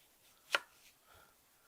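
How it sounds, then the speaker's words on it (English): A single crisp knife chop cuts through a watermelon, a short sharp crunch followed by a faint softer cut, close and quiet, with no voices. "let's cut some slices"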